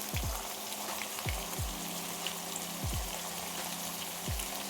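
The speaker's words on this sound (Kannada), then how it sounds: "ಚೆನ್ನಾಗಿ ಬದನೆಕಾಯಿ ಬೇಯುತ್ತೆ ಎಣ್ಣೆಯಲ್ಲೇ" Eggplant pieces and fresh green peas frying in oil give a steady, moderate sizzling hiss, with soft low thumps recurring every second or so underneath.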